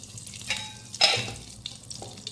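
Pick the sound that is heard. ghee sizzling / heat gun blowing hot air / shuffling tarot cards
ghee sizzling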